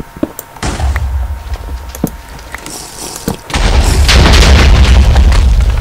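Minecraft explosions boom on a player's base in a server mini-game, several loud thumps early on, then a heavy, sustained rumbling blast that fills the second half, with no voices.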